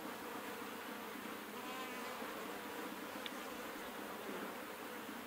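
Honeybees swarming thickly around a hive, a steady, dense buzzing drone that holds even and close throughout with no voices.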